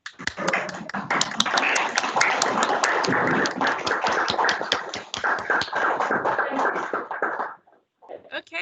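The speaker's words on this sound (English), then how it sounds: "join me in the standing ovation and a round of applause" Participants at a virtual meeting give a round of applause, a busy patter of clapping mixed with voices talking over it, then a brief pause before more speech.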